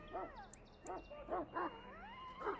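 A Mabari war hound in the fantasy video game Dragon Age: Origins, stirring up the castle kitchens, barks and yips in a quick series of five or six sharp, whining calls, close and clear with no talk.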